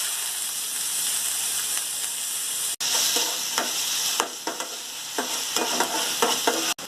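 Onions sizzle steadily in hot oil in a pan for vegetable momo filling, a loud continuous hiss broken by scattered clicks and scrapes of a spoon stirring, with no talk.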